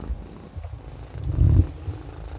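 A house cat purrs softly at close range with a low steady rumble, swelling louder for a moment near the end; no one speaks.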